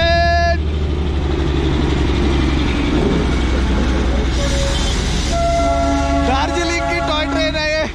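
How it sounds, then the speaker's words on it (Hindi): Darjeeling toy train in West Bengal, just two or three coaches, rumbles steadily along the rails nearby, with a horn sounding at the start and again in repeated blasts near the end, over faint background voices. "दार्जिलिंग की टॉय ट्रेन है ये।"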